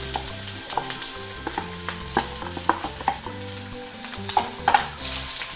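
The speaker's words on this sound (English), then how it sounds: "So you want to keep stirring the rice." Fried rice with beaten eggs being stirred in a hot pan: steady sizzling under a run of quick, uneven scrapes and clanks of a utensil against the pan, heard close with no speech.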